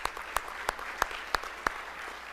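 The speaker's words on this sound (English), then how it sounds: "Give them another round of applause." Audience applause comes through as six evenly spaced, sharp claps in a slow steady rhythm, faint against a quiet room.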